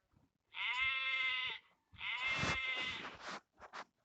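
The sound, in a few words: sheep bleating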